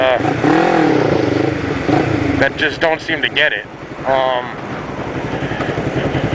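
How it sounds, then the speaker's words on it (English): A motorcycle engine idles and putters as the bike rolls slowly, a steady low drone that rises briefly with throttle, heard under someone talking close by. "When you turn or when you lean a motorcycle, when you're going slow like this, you turn into it"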